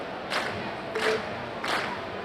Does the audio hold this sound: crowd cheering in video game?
yes